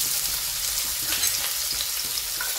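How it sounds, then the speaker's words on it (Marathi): Chopped onion frying in a steel kadhai of crackled cumin and mustard seed tempering for dalcha rice, a close, loud, continuous sizzle with faint stirring scrapes and no talk. "जिरं मोहरी जे आहे आपलं तडतडलेलं आहे, याच्यात आपण हा कांदा घालत आहोत"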